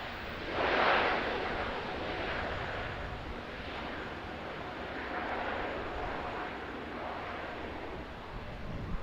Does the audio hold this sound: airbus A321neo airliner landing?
yes